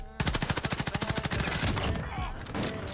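Rapid pistol gunshots in a video game, a fast even string of about fifteen loud, close cracks that then blur into a dense continuous roar of firing.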